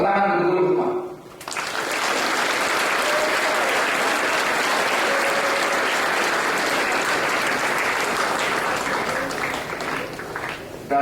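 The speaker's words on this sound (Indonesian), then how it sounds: "tepuk tangan dulu semua" Sustained applause from a large crowd of students at a school flag ceremony in Bandung, starting abruptly after a brief voice and holding steady and loud for about ten seconds before tapering slightly.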